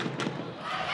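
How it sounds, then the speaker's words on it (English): Crowd at a Vancouver Whitecaps FC versus Reno 1868 FC soccer match at Thunderbird stadium, a brief loud wash of roaring, cheering fans, close and continuous. "Good crowd here in attendance at Thunderbird this afternoon."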